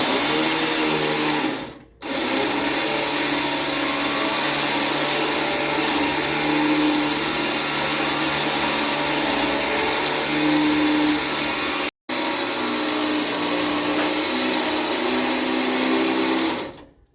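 The engine of a 1955 Willys Wagon runs while the vehicle backs out past a pole, making a loud, steady close-up drone that holds for the whole stretch, broken only by two momentary dropouts.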